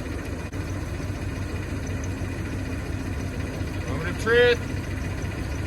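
Chevy G30 RV engine idling steadily at close range, a low continuous rumble running throughout with a short squeal near the end, under a brief spoken remark.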